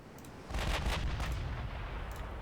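Battlecruiser guns fire in a naval warfare game: one deep, heavy boom lands suddenly and then rolls away in a long, rumbling decay, heard alone without speech.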